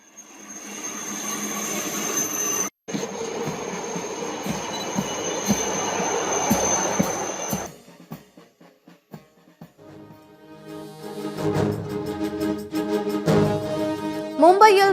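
A Mumbai train runs on its rails with steady rumbling and a long high wheel squeal, then a pause before clattering wheel noise and rising squeals resume.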